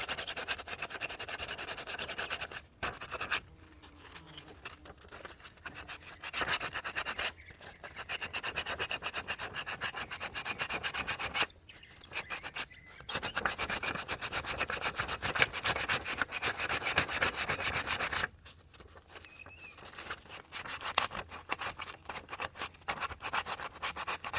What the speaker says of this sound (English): I may do some distressing on the edge where some of that black will pop back through.